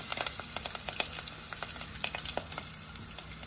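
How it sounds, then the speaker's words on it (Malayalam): Mustard seeds and curry leaves crackling in hot oil: rapid, irregular sharp pops over a soft, steady sizzle, close by. "കടുക് പൊട്ടി"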